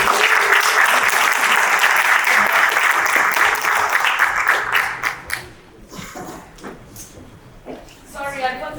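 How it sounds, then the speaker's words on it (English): Audience applause at a music conference in the Durban Playhouse, loud dense clapping that thins into scattered claps after about five seconds, with a few voices and some shuffling heard as it dies down. "So please give Ms. Piwe a round of applause as she comes up onto the platform"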